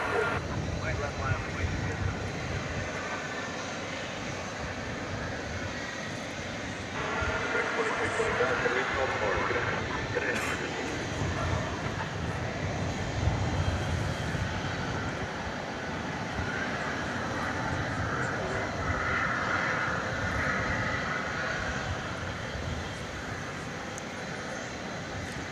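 A Frontier Airlines jet in Polar Bear livery arrives at night at Dallas/Fort Worth airport, its engine roar a broad, sustained rumble that swells and holds over about twenty-five seconds.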